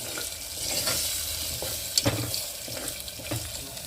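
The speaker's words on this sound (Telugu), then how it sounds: "ఎగ్స్ అన్నది వరకు కూడా ఇలా తిప్పుకోవాలి" Four eggs stirred and frying in a pan, a steady soft sizzle with scraping spatula strokes and a couple of sharper clinks against the pan, close and continuous with no talk.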